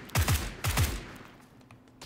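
Gunshots in the Xbox One battle royale PUBG, two pairs of sharp nearby cracks with booming low tails, followed by a quieter stretch and one more shot at the end.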